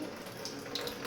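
Tap water runs quietly into a container being filled for flowers, a soft, steady gurgling splash with faint brighter trickles near the end, heard close without speech.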